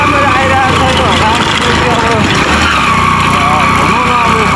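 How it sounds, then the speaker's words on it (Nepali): A motorbike engine labouring up a steep hill road drones loudly and continuously, mixed with heavy rushing noise close to the rider. "बाइकको साउन्डले गर्दाखेरि पनि अलिकति प्रब्लम भएर होला"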